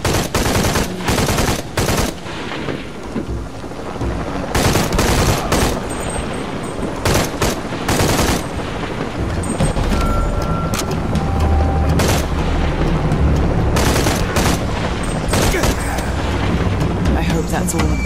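Rapid machine gun fire bursts repeatedly in a Shadow of the Tomb Raider combat scene. The loud, dense volleys come in clusters, with booms and game noise in between, and a voice talks over parts of the fight.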